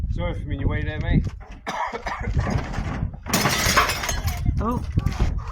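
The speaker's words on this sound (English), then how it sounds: "Oh, glass smashed." Glass shattering on a scrapping truck during a street scrap job, a broad crashing burst midway, with voices talking before and after and a cough-like sound.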